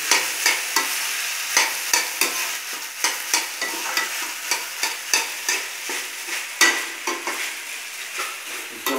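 Rice with cumin frying in a pan over low heat is stirred repeatedly, each scrape of the spoon rising above a steady, close sizzle in a regular rhythm.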